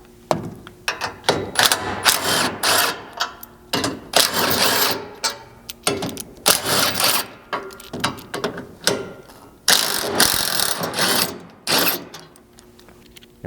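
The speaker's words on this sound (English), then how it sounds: "you're going to start back here by removing these 4 bolts" Ratchet and 19mm socket loosening hitch bolts on a Toyota Tundra, a run of quick, close clicking bursts separated by short pauses, with no voices.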